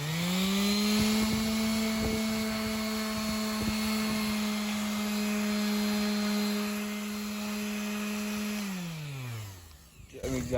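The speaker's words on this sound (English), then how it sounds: "I'm literally just taking the sander" A power sander whines loudly and steadily on a fiberglass bus panel, holding a sustained tone with light bumps before spinning down near the end.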